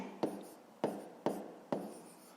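Handwriting on paper during a fifth-grade long-division math exercise, heard as four evenly spaced, close scratchy pen strokes, soft and alone without speech.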